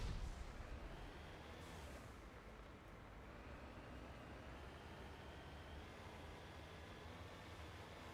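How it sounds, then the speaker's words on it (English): A turret firing in the Mass Effect video game, a steady dense roar of heavy fire that sustains for the whole stretch, loud and unbroken with no voices. "it's a turret."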